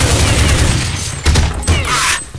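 Gunfire in the video game Counter-Strike: loud, close bursts of rapid shots fired in quick succession throughout.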